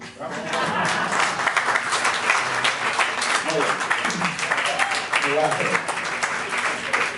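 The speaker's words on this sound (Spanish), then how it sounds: "ahora me vais a dar un aplauso" A studio audience applauds steadily at a Spanish-language science comedy talk on quantum superposition; dense clapping fills the whole stretch while someone speaks briefly over it.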